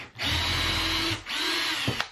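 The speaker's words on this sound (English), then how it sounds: "So I'm just pre-drilling at an angle here" A power drill pre-drills angled holes into wooden boards for a workshop storage shelf, running in two steady loud bursts with a short pause between, then a brief clunk at the end.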